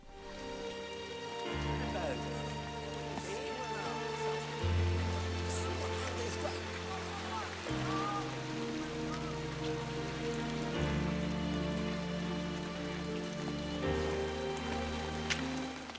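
Steady rain patters on surfaces during a film scene, a continuous hiss of drops running under sustained orchestral music with shifting low tones.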